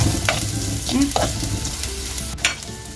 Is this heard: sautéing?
yes